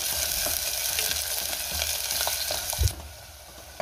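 Onion sautéing with garlic in a pan, a steady close sizzle and frying hiss with occasional stirring scrapes and one louder clunk near the end.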